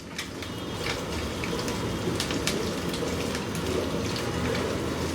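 Eggs and chopped green chilies fry and get stirred in a pan, a dense, steady sizzle with scattered crackling pops, heard close and alone.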